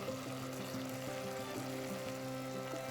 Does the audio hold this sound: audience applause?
no